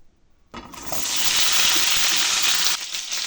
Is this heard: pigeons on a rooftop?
no